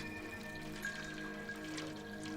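Rain falling in the Stray video game trailer, a steady soft patter running through the whole stretch beneath sustained musical tones.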